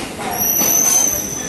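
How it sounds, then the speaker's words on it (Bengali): A train pulls away from a station in Hooghly, West Bengal, with a close, steady rumble and a high metallic wheel squeal running throughout. "এই ট্রেন ছেড়ে দিল এখন"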